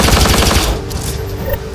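Rapid automatic gunfire in the video game Apex Legends, a loud close burst of evenly spaced shots for under a second, followed by a lingering echoing tail and faint game noise.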